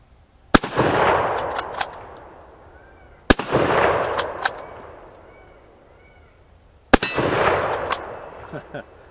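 Three loud, sharp gunshots from corrosive surplus ammunition ring out several seconds apart. Each crack has a long echoing tail that fades away, with no talking.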